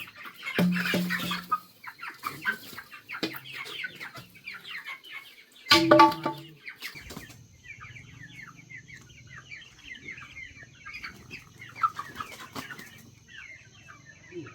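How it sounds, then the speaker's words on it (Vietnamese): Raised chickens huddled in a dusty coop cluck steadily in short bursts, joined by wing flapping and a sharp clatter partway through, near and fairly loud. "Gà nó cũng khôn, nó cũng chui tít vào trong kia, nó không chịu ra."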